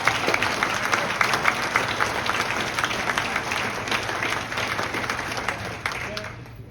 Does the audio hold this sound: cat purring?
no